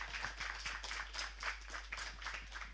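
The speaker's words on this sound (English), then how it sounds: "Let's have a round of applause for our two wonderful speakers." Audience applause closing a talk at a COP-19 climate change and oceans event, a steady crowd clapping with dense, even hand claps lasting throughout, fairly close and moderately loud, with no voices over it.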